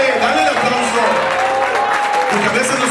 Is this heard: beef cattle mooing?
no